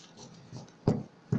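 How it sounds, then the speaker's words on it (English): Two short, crisp riffling slaps of cards being cut, close by, after a soft shuffling rustle, with no voices. "I'm cutting the deck"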